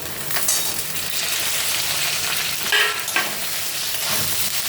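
Eggplant and leafy greens fry in a pan with a steady, dense sizzle, broken by a few scraping stirs of the spatula, close and fairly loud throughout.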